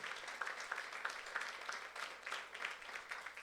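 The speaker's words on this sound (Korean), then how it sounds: "박수를 하나 더 해주세요" Applause from a church congregation during a youth service sermon, a dense wash of many hands clapping at moderate distance, steady and sustained with slight swells, no voices.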